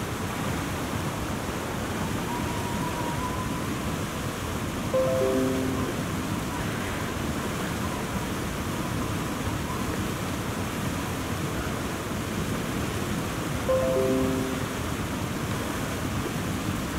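A waterfall in The Long Dark video game gives off a constant, broad rushing roar, steady and fairly distant, with faint game tones twice sounding over the unbroken wash of falling water.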